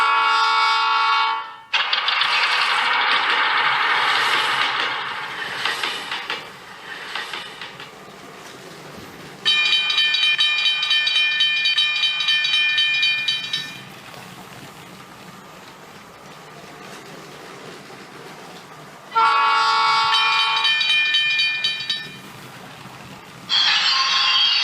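Train sound effects played from the Lego Powered Up app for the Lego City Cargo Train 60198: loud horn blasts and rail clatter in several separate bursts, alternating with quieter rolling noise, no speech.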